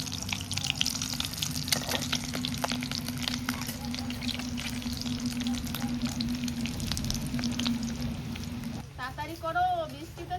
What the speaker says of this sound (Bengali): ডিম ভাজা রেডি